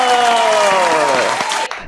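A studio audience at a comedy show claps in a loud, continuous round of applause, overlaid by a sustained gliding musical tone and some voices.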